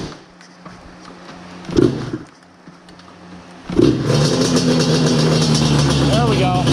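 Yamaha Banshee ATV engine after restoration, first a few quieter bursts and a short rev, then catching and running loud and steady close by with a rough buzzing tone, voices talking over it.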